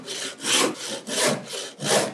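A hand saw cuts steadily through wood in a gentle, unhurried rhythm, with about five push-and-pull strokes rising and falling close by and no voices.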